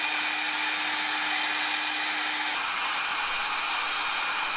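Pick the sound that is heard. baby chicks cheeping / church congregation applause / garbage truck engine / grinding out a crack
grinding out a crack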